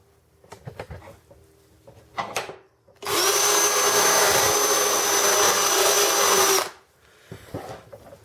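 A power tool grinds a differential bearing in a steady, loud, high-pitched whine lasting about three and a half seconds, with shop clatter and knocks before and after.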